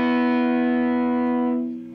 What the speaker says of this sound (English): this is guitar straight into amp. All of the overdrive is coming from the amp now.